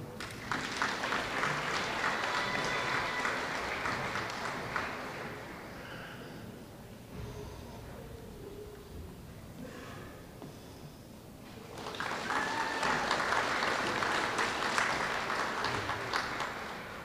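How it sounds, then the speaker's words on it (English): Audience clapping at an elementary school awards assembly, a steady crowd applause that fades to quiet murmuring midway and then swells again into a full round of clapping. "round of applause"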